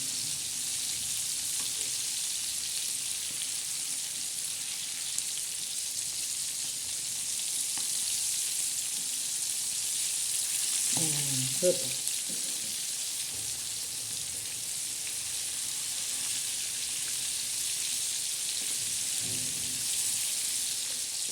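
Bangda mackerel fries in a pan until crisp, giving a steady, close sizzle and crackle with a few brief stirring or turning clatters partway through.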